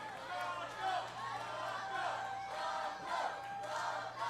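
A wrestling crowd at an OVW steel cage RUSH championship match roars and cheers for Blanco Loco, a sustained loud crowd din with swells of shouting, while a commentator talks over it.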